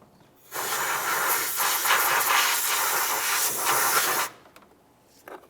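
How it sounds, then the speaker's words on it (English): Compressed air blasts around the spark plug well of a 2002-2005 Ford Explorer engine, a loud, steady hiss lasting about four seconds and cutting off sharply, with faint clicks after. "let's blow a little bit of compressed air in the area to make sure we blow free any debris"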